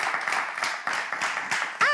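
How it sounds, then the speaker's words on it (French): An audience claps for a guest at a live event, the applause brief and fairly loud with uneven bursts, and a short high tone cuts in at the very end. "on va quand même applaudir la présence de Togbe Agbodjan, Jad Pozis."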